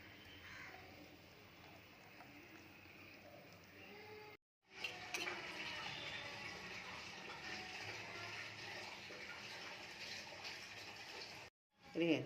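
Ground idli rice batter being poured gives a soft liquid gush that turns louder and steadier after a brief pause, then cuts off, with a short burst of pouring again at the end, all heard close.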